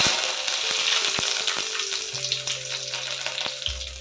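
Curry leaves hit hot oil with popped mustard seeds on a low stove, giving a loud, steady close sizzle with a few sharp crackles and brief tonal hums underneath.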